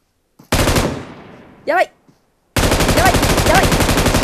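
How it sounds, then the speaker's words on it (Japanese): PUBG Mobile gunfire in a room match: two long bursts of rapid automatic fire separated by a short pause, loud and close, with a brief voice exclaiming between the bursts. "今の銃声のところだ"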